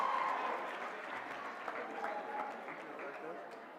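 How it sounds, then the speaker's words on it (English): Crowd applauding at a college convocation ceremony, a soft, distant wash of clapping with murmuring voices underneath that slowly tapers off. "he deserves a round of applause"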